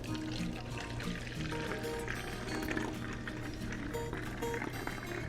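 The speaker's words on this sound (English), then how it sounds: "just pour it into your spritzer bottle, carefully" Coffee and apple cider vinegar being poured into a spritzer bottle for a beef brisket, a continuous liquid trickle and splash close by, with clinking and faint kitchen background noise.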